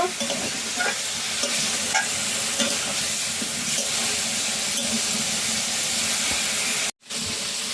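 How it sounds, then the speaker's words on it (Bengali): About a kilo of chicken pieces stirred and fried in a pan, a steady loud sizzle with scraping stir strokes throughout, briefly cut off near the end. "এই মাংসগুলাকে 5-6 মিনিট মতো ভালো করে নাড়াচাড়া করে একটু ভাজা ভাজা করে নেব"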